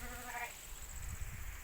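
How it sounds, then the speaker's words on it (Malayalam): One sheep lets out a single short, wavering bleat at the start, fairly soft and somewhat distant, followed by low rustling background noise. "ചെമ്മരിയാടിനെ കണ്ട"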